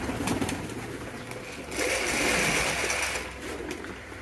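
Pigeons coo softly nearby, overlapping throaty calls with fluttery rustling in the background.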